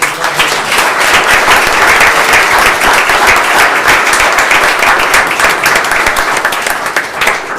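Town council meeting audience gives a sustained round of applause for police officers, dense loud clapping filling the room steadily for several seconds without talk.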